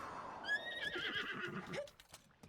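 A horse in the video game Echoes of the Wild gives a single clear whinny with rising and falling pitch, fairly close, followed by a few soft hoof clops as it fades.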